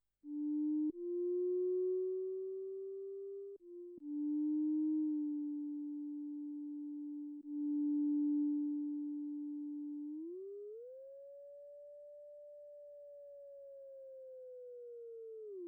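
A Behringer JT Mini synthesizer plays a pure siren-like tone with the LFO off, holding steady pitches with sudden jumps and slides, then gliding up to a higher sustained note before falling away, loud and alone.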